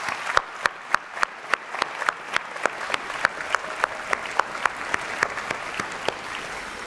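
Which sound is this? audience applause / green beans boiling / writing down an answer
audience applause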